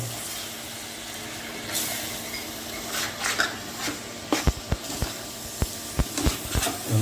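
Cuttlefish curry, Jaffna style, stirred in a cooking pot, with a steady sizzling hiss and a run of sharp spoon clinks against the metal in the second half, close by.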